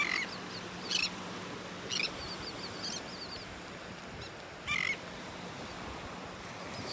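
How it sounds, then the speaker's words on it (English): Several short bird calls ring out at moderate distance on a beach in North Naples, Florida, on a morning at very low tide, with soft surf and wind filling the gaps between them. "Love watching the birds out here in the morning,"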